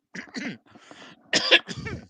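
A few quick, close coughs in short bursts, followed by a rougher throat-clearing cough.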